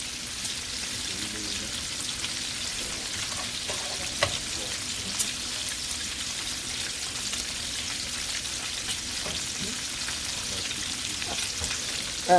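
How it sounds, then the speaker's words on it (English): Bacon cooking in a skillet over raised heat, a steady, close crackling sizzle with small pops that holds evenly throughout and has no talking. "Gonna let this bacon cook and get crispy."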